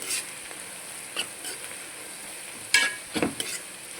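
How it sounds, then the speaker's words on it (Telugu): Onions softening in a pan with curry leaves for a green egg curry, a soft steady sizzle broken by several sharp spatula scrapes and taps near the end. "ఉల్లిగడ్డ మంచిగా మగ్గుతుంది ఇందులో మనం కరివేపాకు వేసేస్తుంది"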